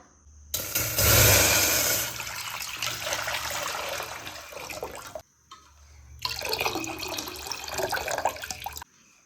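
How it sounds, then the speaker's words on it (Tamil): Water pours steadily into a pot of rice for cooking, a full splashing stream that briefly stops, then resumes for a second pour. "ரெண்டு சம தண்ணி ஊத்திக்கலாம்."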